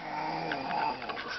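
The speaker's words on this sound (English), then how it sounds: "Where are you growling, Teela?" A dog growls softly at close range, a low rumbling snarl that rises and falls in short uneven pulses over about a second.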